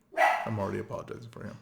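A dog barks once, loud and close, at the start, then someone talks over the rest while faint yips or whimpers come through beneath his voice.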